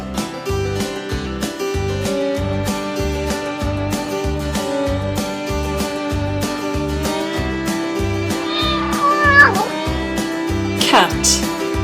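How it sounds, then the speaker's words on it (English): A cat gives two short meows late in the clip, fairly clear but sitting under a cheerful, rhythmic children's music track about farm animals. "Cat."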